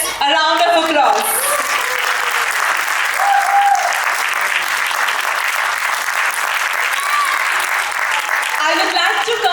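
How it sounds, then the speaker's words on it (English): An audience at a Grade 8 school drama performance of Pride & Prejudice at a Waldorf school breaks into loud, sustained applause, a steady wash of many clapping hands lasting the full stretch, with brief voices at the edges. "So please give yourselves a round of applause."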